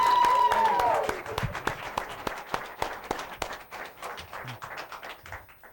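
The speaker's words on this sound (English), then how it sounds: "Round of applause, Frank Montefiore." A studio audience on a late-night talk show applauds, a dense burst of clapping that starts strong then thins into scattered individual claps, with a short tone at the start.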